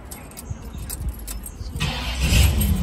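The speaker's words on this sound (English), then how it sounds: "This is what a quick start sound like." A 1970 Pontiac Bonneville cranks briefly and fires up, the engine catching into a rising rumble near the end, close and moderately loud.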